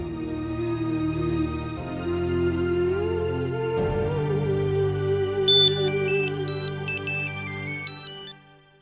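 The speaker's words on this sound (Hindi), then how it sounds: "विनोद, जल्दी से सतीश को फोन लगा दे" A telephone ringtone plays in a home as a call is placed, a steady electronic melody with a tinkling upper pattern, loud and close, with no talk until it cuts off at the end.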